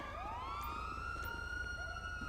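A police car siren in the video game GTA V with the LSPDFR mod wails steadily, its rising and falling tone sounding clearly over a low engine rumble.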